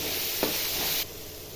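Steady hissing sizzle of chopped tomato and spring onion sautéing in hot oil, with a brief stir partway through before the sizzle drops to a quieter level.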